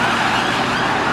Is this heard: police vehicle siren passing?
yes